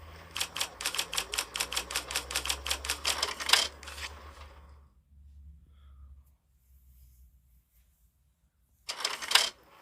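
Typewriter keys clack in rapid, regular strokes inside the Murder in the Alps video game, a run of about twenty crisp taps, then silence, then a short final burst.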